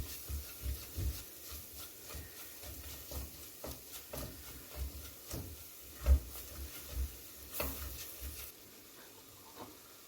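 Flour roasting and being stirred in a pot for creamy pumpkin soup, with soft scraping and rubbing strokes and faint sizzling, a few sharper knocks of the spoon against the pot, close and fairly quiet, no talking.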